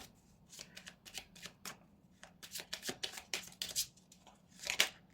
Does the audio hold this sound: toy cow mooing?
no